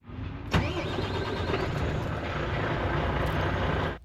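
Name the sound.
lorry engine running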